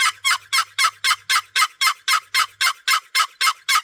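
Turkey box call worked by dragging the lid, giving a loud, evenly paced run of about fifteen sharp yelps close to the listener.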